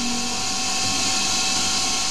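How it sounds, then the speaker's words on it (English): A CNC lathe spinning at around 800 RPM taps a thread into a vintage BSA Empire Star motorcycle part, giving a steady high-pitched whine with a constant tonal drone, loud and close with no talking. "that's the fastest I've ever tapped anything in the lathe."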